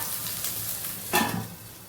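Mango and spices sauté for fish curry in a steady, close sizzle, broken near the middle by one brief, louder scrape of stirring.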